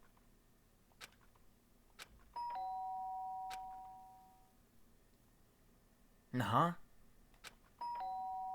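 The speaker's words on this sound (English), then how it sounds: "The sharp sound of the doorbell pierced my sleepy haze and pulled me back to the real world." Electronic doorbell chime from Danganronpa: Trigger Happy Havoc rings twice, a clear sustained two-tone ding-dong several seconds apart, over a quiet low hum with faint ticks; a short spoken exclamation falls between the chimes.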